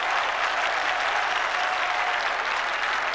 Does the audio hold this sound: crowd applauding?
yes